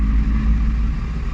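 A Hyundai i20 petrol engine hums steadily at around 2000–2500 RPM as the car shifts into fourth gear, a continuous low drone with road noise inside the cabin.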